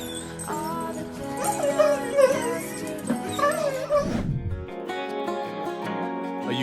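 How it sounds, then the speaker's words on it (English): Dogs greeting their owner after two years apart whimper and yip excitedly in a rising, wavering burst, close by, while music plays throughout. "These dogs hadn't seen their owner for 2 whole years, and their long-awaited reunion was heartwarming."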